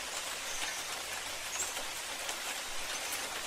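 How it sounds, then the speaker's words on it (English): Steady rain effect from a Construct 3 video game, a soft continuous hiss of falling raindrops at even level throughout, with no voices. "Little raindrops coming, and then you have this little movement."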